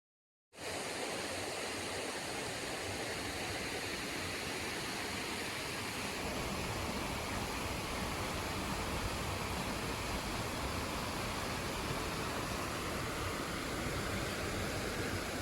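Steady rushing water fills the scene, a broad constant roar of flowing current with no pauses or voices.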